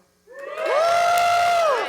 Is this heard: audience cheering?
yes